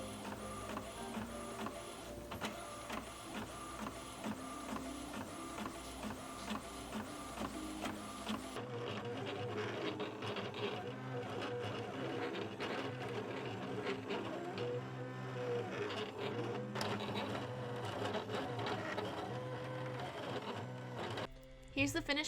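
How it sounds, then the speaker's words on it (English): Printer printing and cutting sticker sheets, a steady mechanical whir and rattle that shifts to a different, deeper grinding motor tone partway through, close and continuous. "Let's get to printing and cutting."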